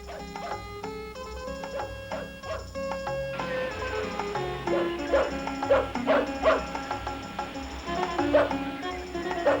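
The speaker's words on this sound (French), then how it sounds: "Qu'est-ce qu'il a, ce putain de chien?" A dog barks repeatedly in a film scene, a string of close, sharp yips and bow-wows with occasional whimpers, sounding over a musical score that swells partway through.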